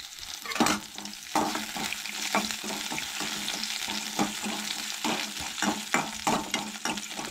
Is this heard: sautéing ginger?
yes